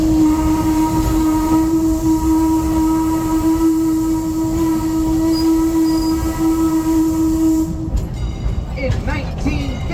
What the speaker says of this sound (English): after he blows the whistle.